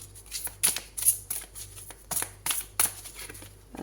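Tarot cards being shuffled by hand, crisp close riffling and slapping strokes repeating in a steady rhythm over a faint background hum, with no voice.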